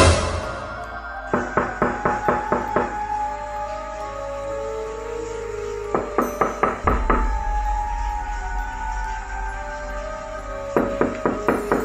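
Knocking on a door at midnight in Sabak Bernam, sounded as three bursts of rapid, sharp raps, each burst a quick run of about five to eight knocks, fairly close and loud over a steady low hum.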